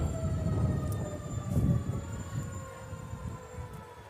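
An ambulance siren in a St. Patrick's Day parade in Utica holds a steady, sustained tone over a heavy diesel engine rumble, loud and close, with no talking.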